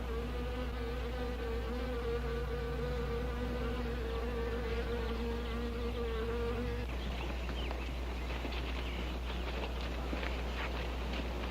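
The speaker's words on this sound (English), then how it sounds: "Now look here, Zinthrop, what's all this nonsense about wasps?" Wasps buzz steadily and close in an old film scene, a dense insect drone with a clear tone for the first half that then turns rougher and more scattered.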